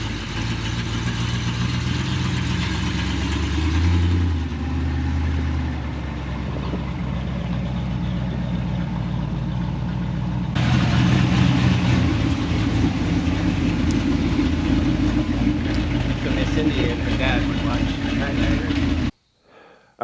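The screen-used Knight Rider KITT pilot car idles with a steady, low engine rumble that grows louder as it pulls up a driveway, then cuts off abruptly near the end; voices talk faintly over it.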